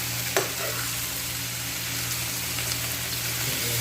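Egg masala spices stirred in hot oil for a Bangladeshi-style dish, a steady close sizzle with soft scraping of the spoon, continuous and fairly quiet, with no talking.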